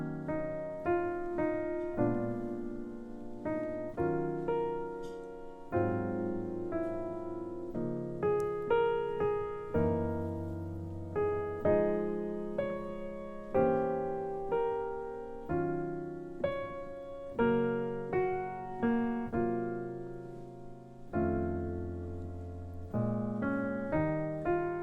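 Solo jazz piano plays an intermediate-level arrangement of the ballad, with rolled chords and a singing melody line moving through a slow, rubato A section, close and clear with no talking.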